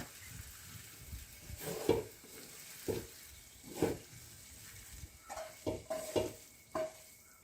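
Vegetables sizzle and fry in a pan while being stirred, with repeated scraping strokes at an irregular rhythm, fairly close and moderately loud, no voices.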